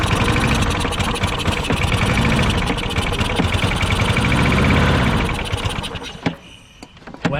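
A Craftsman lawn mower engine with a clogged carburetor runs loudly and roughly at close range, then drops off near the end into a few scattered clunks.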